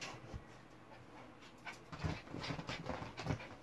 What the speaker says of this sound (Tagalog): My dog is 8 months old.